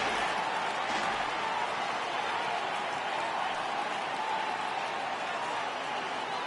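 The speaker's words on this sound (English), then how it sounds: "Crowd gets up for the 3-2" Baseball stadium crowd rising and cheering on a full 3-2 count, a steady broad roar filling the whole span at even loudness without letting up.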